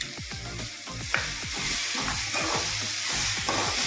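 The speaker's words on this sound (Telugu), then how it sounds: "బాగా పచ్చివాసన పోయేదాకా ఏగాలి" Masala paste with cashew and coconut fries in a pan, a continuous sizzle with repeated quick scraping stirs of a spoon against the metal, close and fairly even, no talking.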